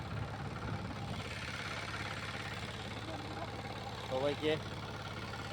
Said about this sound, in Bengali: আমি যে আপনাদের যে পাওয়ার টিলারটা দেখাচ্ছি